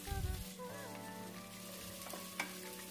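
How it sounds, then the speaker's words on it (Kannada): Chopped onions frying in a pan for tomato pulao, a steady soft sizzle with a brief stirring clatter at the start, close but fairly quiet, with no talking. "ಇದೊಂದು ಲೈಟ್ ಬ್ರೌನ್ ಕಲರ್ ಬರೋ ಗಂಟ ಫ್ರೈ ಮಾಡ್ಕೊಳ್ಳಿ."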